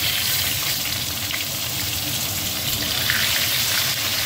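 Potatoes, whole cumin seeds and two dried red chillies frying in hot oil give a steady, dense sizzle that holds at an even level throughout, close and alone with no talk.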